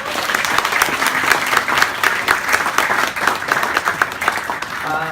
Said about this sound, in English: can we give a huge round of applause for all the volunteers